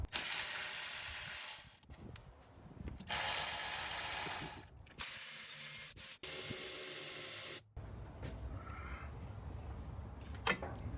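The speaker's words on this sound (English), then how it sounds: "I'm trying to do most of it with my Milwaukee ratchet" A Milwaukee ratchet spins off valve cover bolts on a Toyota/Lexus 5.7L 3UR-FE V8, in several loud sustained bursts of rapid clicking broken by short pauses and quieter handling noises, with no talking.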